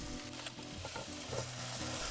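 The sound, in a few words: onions and carrots frying in pan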